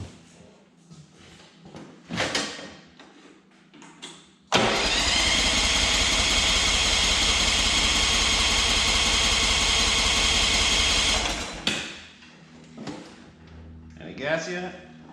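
A two-cylinder engine cranks and catches abruptly, then runs at a loud, steady idle for about seven seconds before cutting off, with someone talking and light shop noises before and after.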